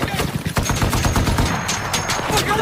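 Rapid bursts of gunfire crackle through a war film battle scene, dense overlapping shots and volleys in a steady barrage, with faint voices mixed underneath.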